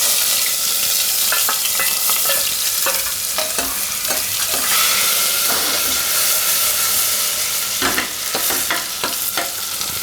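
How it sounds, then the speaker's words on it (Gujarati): Ginger, green chili and garlic frying in hot oil, a loud continuous sizzle and hiss with scattered crackles and stirring clicks throughout. "તો તેલમાં પહેલાં આપણે નાખીશું આ આદુ મરચાં ને લસણ"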